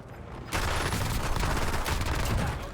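The new SMG in the video game Warzone fires in a sustained, rapid automatic burst, loud and close, running continuously for several seconds.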